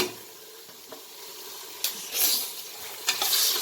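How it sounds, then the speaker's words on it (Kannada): Onion and tomato frying in a pan with cardamom, a steady soft sizzle with a few louder bursts of stirring or spattering, close and alone without talk. "ಚೆನ್ನಾಗಿ ಫ್ರೈ ಆಗಲಿ."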